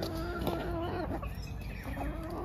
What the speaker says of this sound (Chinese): 抓什么鸡我也不懂啊、嗯、就听我们刘姐的吧。